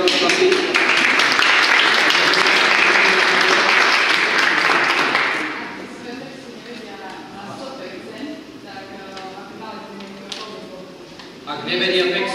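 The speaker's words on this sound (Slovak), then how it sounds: "máme potlesk pre vás, aj pre vás chlapi." Applause for workshop participants at a rhetoric and negotiation training, loud and sustained for about five seconds, then fading out as a voice talks over the tail.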